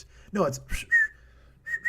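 A person whistles a tune in a few short, clear notes, with brief talking just before the whistling.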